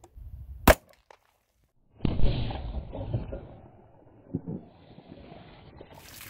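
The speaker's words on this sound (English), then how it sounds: "second shot with the standard bone barrier jugs test." A .45 ACP Underwood +P hardcast round fires into water jugs set behind a simulated bone barrier, a sharp loud crack at the start, followed after a pause by a long rumbling splash and jostling settling for several seconds.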